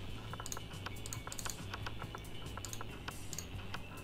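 Rapid keyboard typing close by, a steady patter of distinct key clicks with brief pauses, quiet and alone.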